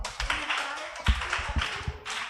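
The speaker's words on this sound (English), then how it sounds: "Clap for her." Scattered audience clapping at a live public engagement event, uneven and fairly close, with some knocks mixed in and no talk over it.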